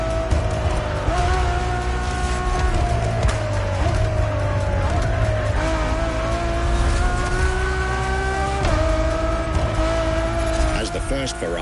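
A Ferrari Enzo supercar drives with a loud, steady engine note that shifts pitch through gear changes, with some tire noise mixed in throughout.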